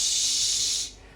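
A voice imitates a headset's constant hiss like a pressure cooker, one steady breathy hiss held for about a second before cutting off.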